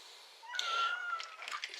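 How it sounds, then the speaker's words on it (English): Female cat desperate to go out a window lets out a drawn-out, plaintive meow followed by a shorter chirping cry, close by and fairly quiet in an otherwise silent room. "Excuse the cat, she's desperate to go out the window"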